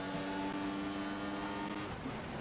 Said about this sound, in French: le freinage dans l'échappement d'Antonin. Et à la réaccélération, on va doubler Antonin